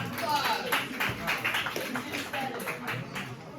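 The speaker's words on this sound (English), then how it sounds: "give them a round of applause" A classroom audience claps in a dense, steady burst of applause that fills the whole stretch, with children's voices mixed in underneath.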